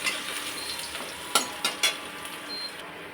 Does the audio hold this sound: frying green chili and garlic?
yes